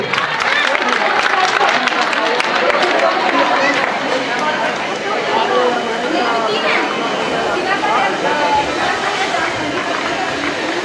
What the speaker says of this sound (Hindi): काफी जोरदार तालियों से मैम आपका स्वागत करिए।